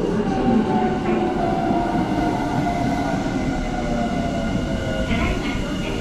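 A Semboku Rapid Railway train rumbles steadily into a station in Japan, wheels clattering and brakes faintly squealing, loud and close throughout with no talking.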